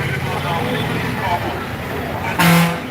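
Road traffic near Guruvayur Temple with a tanker lorry nearby: steady engine rumble under talking voices, then one loud, close horn toot near the end.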